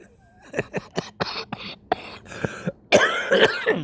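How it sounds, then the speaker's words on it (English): Someone nearby coughs repeatedly in a quick rough series of short hacks, ending in a louder, longer harsh cough. "Nasty cough"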